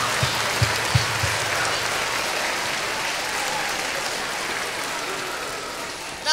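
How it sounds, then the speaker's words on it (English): A big round of applause for a senior school choir at a carol concert, a steady wash of many hands clapping through the whole stretch, with a few louder thumps early on. "Can we have another big round of applause for the senior choir?"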